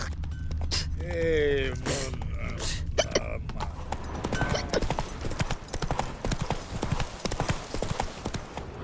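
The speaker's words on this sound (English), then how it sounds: "Hoofprints. Run, Roach." Horse hoofbeats in The Witcher 3 video game, rapid rhythmic clip-clop of a galloping horse, with a brief neigh near the start and steady close hooves continuing throughout.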